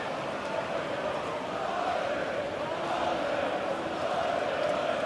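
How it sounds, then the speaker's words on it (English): Steady murmur of a stadium football crowd at an A-League match between Melbourne Victory and Adelaide United, a broad, even roar with no distinct chants or peaks. "The crowd are starting to get into it as well."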